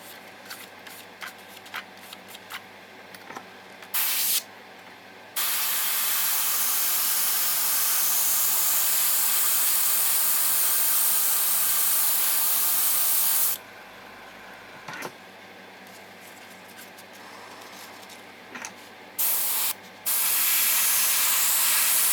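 An airbrush sprays buff XF57 paint thinned with lacquer thinner onto a plastic model starship, giving a steady hiss in long bursts with short pauses and brief clicks between them.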